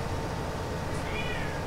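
A pet cat lets out a single squeaky meow near the end, short and fairly clear, above a constant low hum of farming game machinery.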